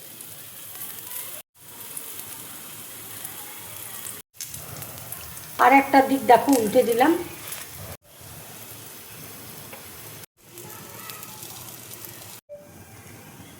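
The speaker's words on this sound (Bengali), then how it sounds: "এবার পরোটাটা দেখো দিয়ে দিচ্ছি তেলের মধ্যে" Aloo paratha frying in a little oil in a frying pan, a steady soft sizzle and hiss that swells louder for a moment midway, with someone talking over it.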